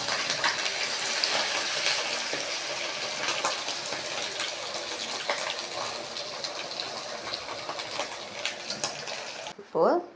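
Chicken 65 pieces fry in hot oil with a steady, dense crackling sizzle that holds evenly throughout, ending with a brief clatter close by.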